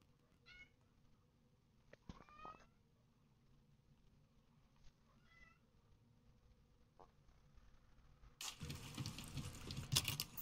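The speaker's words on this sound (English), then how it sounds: "Go away, kitty cat." A house cat meows a few times, faint and intermittent, against a quiet room during a Resident Evil 4 (2023) gameplay session, followed by louder rustling and patter at the end.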